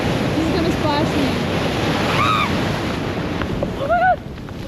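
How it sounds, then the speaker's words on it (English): Ocean waves crash and splash around a rock pool on a windy shore, with a steady roar of surf throughout and one closer surge near the end. "Look at that wave."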